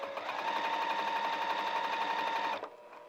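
A sewing machine runs steadily for about two and a half seconds, stitching a cuff onto a pair of lounge pants, with a continuous whirring hum that stops abruptly near the end.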